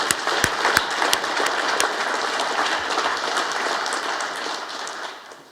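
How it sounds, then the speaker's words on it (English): At an agricultural swine profitability conference, an audience gives a sustained round of applause, dense clapping that stays even for several seconds before fading toward the end. "So I'd like to give them a round of applause right now"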